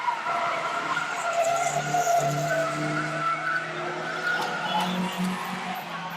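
Stock car bangers skid and slide around a race track, a continuous loud roar of engines and tyre scrubbing that swells and eases without pause for several seconds.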